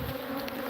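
A bee buzzes close by outdoors at an apiary, a steady insect drone over a low background hum, brief and unbroken with no talking.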